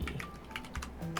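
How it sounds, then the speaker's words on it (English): Computer keyboard keys tap in a quick, uneven run of close, soft clicks over a faint background hum. "We will type in the number of hours,"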